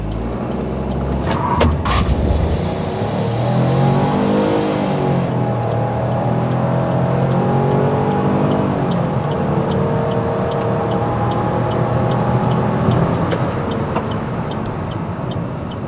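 A 2020-or-later Opel Crossland facelift accelerating hard from a standstill during a timed run, engine note climbing steadily with audible gear changes, heard from inside the cabin as a loud, continuous drone.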